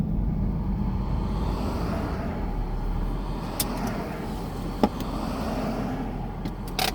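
Road traffic rolls past a pulled-over vehicle on the way to Arches National Park, a continuous low rumble of cars and engines with a few brief knocks and clicks near the microphone.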